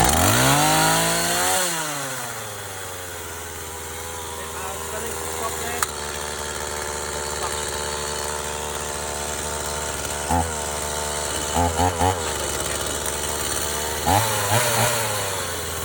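A chainsaw engine runs loud and steady at full revs in choke mode, close by, with a few brief blips in the sustained drone.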